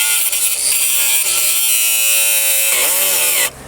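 An angle grinder bites into a coated motorcycle lock, a loud sustained high-pitched metallic screech with wavering pitch that runs continuously for about three and a half seconds before cutting off.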